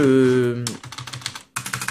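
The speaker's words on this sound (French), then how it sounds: "C'est un clavier que j'ai trouvé." Typing on a found computer keyboard: after a brief voice, a quick run of crisp, close key clicks, a short pause, then another rapid burst of evenly spaced keystrokes.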